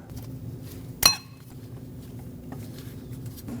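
A new cotter pin being bent over on a castle nut during front strut replacement on a 2006–2015 Lexus IS250 gives one sharp metallic clink, close and brief, over a low background hum.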